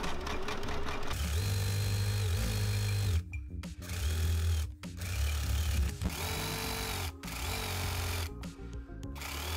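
Sewing machine fitted with a jeans needle stitching denim with black thread, running in steady loud bursts with a strong motor hum and rapid needle chatter, pausing briefly between runs.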